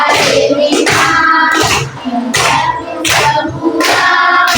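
A classroom of primary-school children doing finger clapping in time, with loud bursts of rapid patter about once a second alongside group chanting voices.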